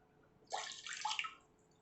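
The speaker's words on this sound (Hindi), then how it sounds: "इसमें हम 2 कप पानी डालेंगे" About two cups of water pour into a pan for a kadha, a brief, soft splash and trickle lasting roughly a second in an otherwise quiet kitchen.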